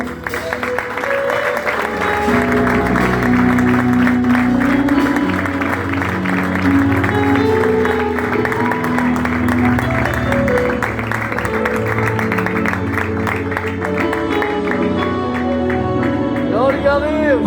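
A church congregation applauding during a sermon, loud sustained clapping and crowd noise under an amplified voice and background music for the whole stretch.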